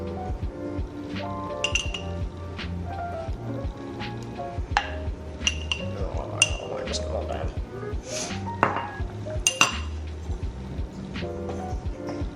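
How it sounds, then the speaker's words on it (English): Lemon juice, salt, spices and oil are mixed into a paste, heard as repeated glassy clinks and taps of a utensil against a bowl, scattered irregularly under ongoing talk. "Mix it together the best we can, sort of"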